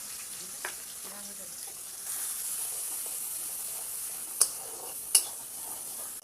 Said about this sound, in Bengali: পেঁয়াজটা দিয়ে দিচ্ছি, পেঁয়াজটাকে এবার লাল লাল করে ভেজে নেব।